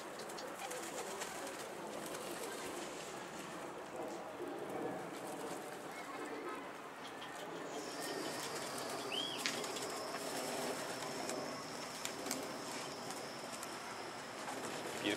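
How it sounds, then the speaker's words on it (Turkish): Stray black-tailed bango pigeons arrive at a loft with soft cooing and a brief flutter of wings, amid steady outdoor ambience, with someone talking now and then. "aha kaçak geldi. Kara kuyruk bango geldi."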